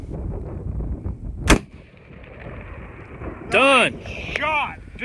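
A single .338 Lapua or 6.5 Creedmoor rifle shot fired at long range on rock chucks, one sharp loud crack over wind noise, followed later by people talking.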